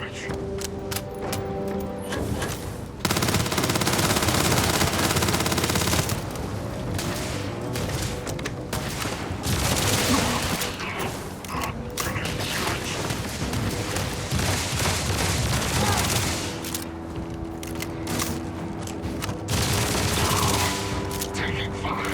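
Rapid bursts of gunfire and explosions in the video game Starfield fill the scene, loud sustained volleys with brief lulls, mixed with game sounds and voice callouts.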